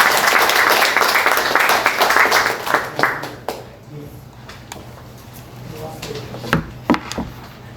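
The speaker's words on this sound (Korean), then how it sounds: "다 같이 박수로." Audience applause at a Korean Christian doctors' association lecture on a medical missionary, loud and dense at first, then thinning to a few scattered claps after about three seconds while a voice begins to speak.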